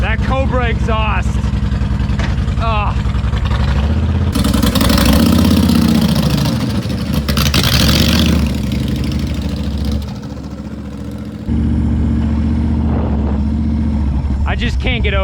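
A Honda Sabre VT1300CS V-twin motorcycle with a Cobra exhaust idles with a deep throbbing rumble, revs up loudly in the middle, then drops back to idle, with someone talking over it.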